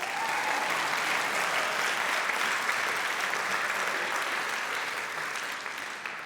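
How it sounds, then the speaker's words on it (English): Steady, dense audience applause at a literary awards ceremony, sustained and even throughout at moderate volume with no voices. "clap, clap, clap, clap."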